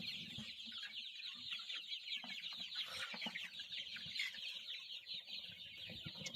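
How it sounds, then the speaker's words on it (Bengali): A flock of Sonali chickens in a poultry farm shed keeps up a steady, soft clucking chatter, many birds at once blending into a continuous murmur. "উপর দিয়ে আছে কিছুগুলা মুরগি"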